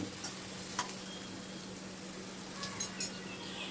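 Onion and chopped tomato sizzling in a hot pan while being stirred together, a continuous soft frying hiss with a few light clicks from the spoon against the pan.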